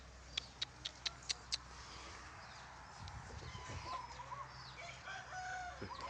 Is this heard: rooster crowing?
yes